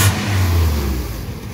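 A Mazda Miata four-cylinder engine fitted in a VW Rabbit truck gives one short rev blip through a muffled exhaust, loud and close, rising then settling back to idle.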